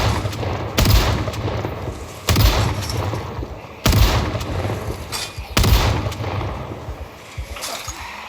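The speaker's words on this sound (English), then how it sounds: "at least the shotgun's lethal again" A shotgun firing in the video game Project Zomboid at a tornado shelter in Brandenburg, four loud, booming blasts spaced about one and a half seconds apart, each with a rumbling tail, with no talking.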